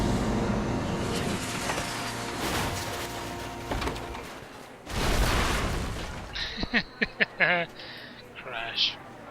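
A flying car crashes in the Back to the Future video game: loud booming impact bursts over a rumbling engine, followed by several short sharp hits and clatter near the end, with talk running through.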